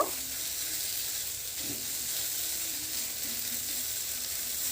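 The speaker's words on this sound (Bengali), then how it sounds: "ক্যাপসিকামটাও দিয়ে ভালো করে কষে নেব" Onion and grated capsicum fry in a pan with a steady, close sizzle and hiss. A few soft stirring scrapes break through, and no one speaks.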